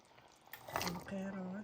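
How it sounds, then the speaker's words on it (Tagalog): Potatoes dropped into a pot of simmering menudo, a brief wet splash and clatter followed by bubbling liquid, quiet and close. "Lagay ko na yung patatas."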